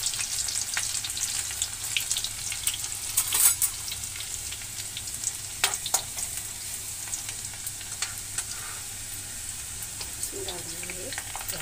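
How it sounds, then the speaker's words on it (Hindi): Garlic sizzling in hot oil with cumin, a soft, continuous frying hiss broken by occasional stirring clicks and scrapes, quiet and close. "डाल देंगे इसमें लहसुन, इसको भी थोड़ी देर पकने देंगे।"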